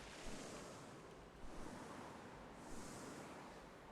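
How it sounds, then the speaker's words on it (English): A waterfall in The Pathless game, heard as a steady broad rushing wash of water with gentle swells, soft and continuous with no voices over it. "cannot go behind that waterfall"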